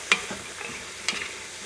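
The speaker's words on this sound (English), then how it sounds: "And just give them a quick stir." A quick stir of garlic, zucchini, squash and mushrooms in a soup pot brings two sharp utensil clinks against the pot and a faint, low sizzle between them, with no voices.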